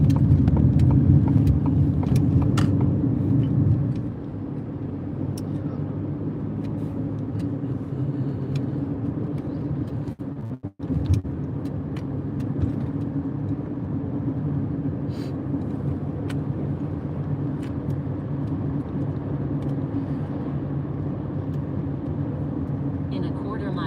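A car being driven through the Boston area, heard from inside the cabin, gives a steady low road rumble that eases slightly after a few seconds, with a brief dropout midway and someone talking over it.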